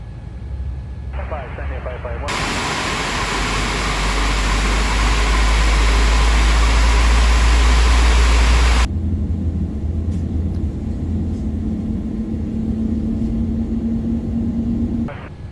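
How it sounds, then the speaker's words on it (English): Boeing 787-8 jet engine spooling up during start in Microsoft Flight Simulator: a loud, steady broadband roar that swells in and holds for several seconds, then drops to a lower continuous hum with a faint tonal whine. "Starting engine number 1."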